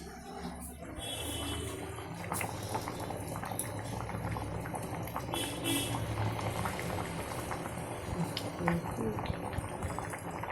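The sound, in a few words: water coming to a boil in a pot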